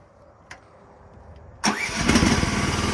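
A Chinese mini skid steer's small engine cranks briefly after a couple of faint clicks, then catches and roars into a rough, steady idle up close.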